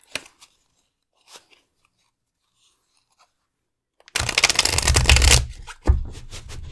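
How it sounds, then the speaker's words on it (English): Deck of tarot cards being shuffled for a card reading, faint scattered taps at first, then a loud close riffling burst lasting a couple of seconds followed by a final shuffle. "So let's shuffle these cards."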